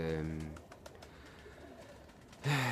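Low coos of Zagłębie Tippler pigeons at the start and again at the end, with a quiet, faintly rustling pause between them.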